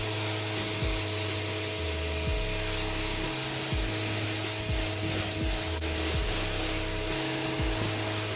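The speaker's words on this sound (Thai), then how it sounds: "ข้างบ้านเลอะเลอะอย่างนี้เราก็สามารถที่จะเอามาไล่ฉีดได้นะครับสีไม่ถลอกนะครับ" Total TGT11356 high-pressure washer at 150 bar sprays water against a soiled outdoor surface, a steady loud hiss over the pump's droning motor hum that keeps shifting in pitch as the jet is swept.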